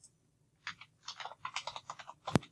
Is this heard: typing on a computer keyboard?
yes